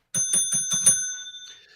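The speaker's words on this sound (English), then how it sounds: "ring that bell" A bicycle-style bell rings five quick, bright dings in a row, then its clear metallic tone rings out and fades, loud and close with nothing else around it.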